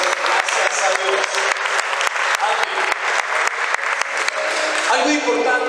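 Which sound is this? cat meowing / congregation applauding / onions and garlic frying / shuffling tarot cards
congregation applauding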